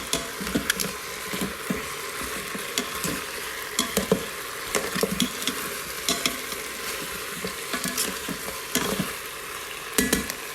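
Beef browning with tomato paste in an Instant Pot, a constant quiet sizzle broken by repeated sharp scrapes and taps of a utensil.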